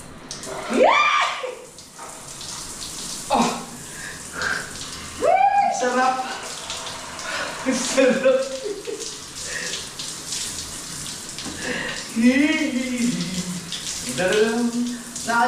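A shower runs in a new bathroom with a steady rush of spraying water, close and loud, while voices call out and exclaim over it throughout.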